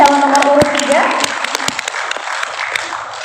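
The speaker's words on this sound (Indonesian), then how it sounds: "Tepuk tangan untuk pasangan calon nomor urut 3." At a regency candidates' debate in Kapuas Hulu, the audience breaks into loud applause, many hands clapping in a dense burst that gradually thins out. A voice briefly overlaps the start.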